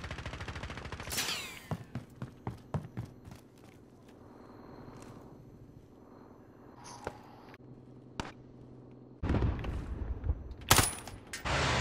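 Gunfire in Call of Duty: Modern Warfare rings out as scattered sharp shots and short automatic bursts, some near and loud, others distant, with footsteps between and a heavy rattling burst near the end.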